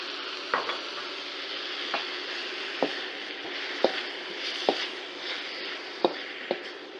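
Broccoli and soy sauce sizzle in a hot stir-fry pan, a steady hiss broken by sharp clacks as a utensil stirs and taps the pan at irregular intervals.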